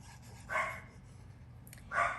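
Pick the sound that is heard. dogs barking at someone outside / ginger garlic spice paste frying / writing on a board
dogs barking at someone outside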